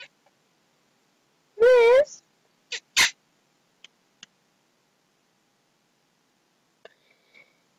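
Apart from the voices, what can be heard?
cat moving and meowing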